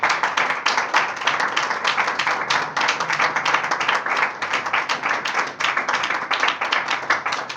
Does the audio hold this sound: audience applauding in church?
yes